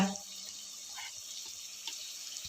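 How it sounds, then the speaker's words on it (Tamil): Water poured lightly into a pot of home-cooked chicken curry, a short splashing trickle that begins, fades and then briefly returns, fairly close, with no talking. "கொஞ்சம் லைட்டாக தண்ணி ஊற்றிக்கிறேங்க லேசாக தண்ணி ஊற்றி"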